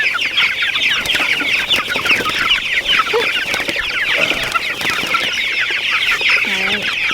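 A flock of chickens on a small farm clucks and chatters continuously up close during morning chores, many overlapping bird voices with a few louder squawks.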